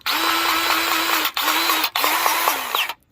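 A grease gun pumps grease into a coupler on a lock-and-lube fitting, making three runs of steady mechanical whirring with a tonal hum. Each run is separated by a brief stop, and the sound is close and loud before cutting off at the end.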